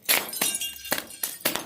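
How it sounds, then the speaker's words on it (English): Broken glass crunching underfoot in an abandoned movie theater, five loud, close, gritty crackling steps spaced irregularly, with no talking over them. "Love crunching on glass."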